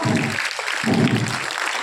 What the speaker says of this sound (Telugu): ఈమెను శుభాముఖంగా చప్పట్లతో అభినందించాలని కోరుకుంటున్నాను